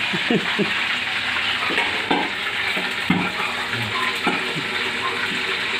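Sisig sizzles and crackles steadily in a hot pan, with periodic scraping and stirring clatter, close up and fairly loud throughout.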